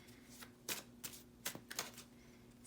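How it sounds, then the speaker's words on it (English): Tarot cards being shuffled and drawn during a card reading, soft papery riffles and slaps in several quick bursts, close and quiet, with no talking. "I'm going to draw some more cards to get more clarification."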